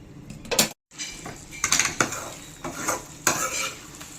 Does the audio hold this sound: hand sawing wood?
no